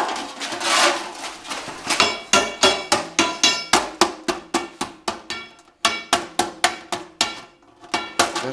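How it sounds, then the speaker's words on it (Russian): Rapid, steady hammer blows ring against sheet metal while flanging a round duct tee, a long series of loud metallic clanks with a brief pause midway. "Молоточком его доваливаем."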